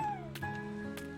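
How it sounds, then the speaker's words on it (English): A cat bunny slime in the video game Slime Rancher 2 gives a short, gliding meow, followed by a couple of soft chirpy squeaks over a quiet background tone. "Look, cat bunny. There's a cat bunny."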